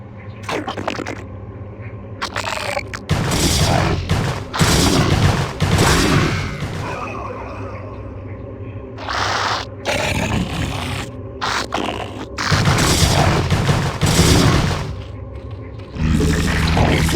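Starcraft battle gunfire from the Zerg campaign mission Egression, loud bursts and roaring impacts coming in waves over steady game music, with brief gaps between clusters of shots.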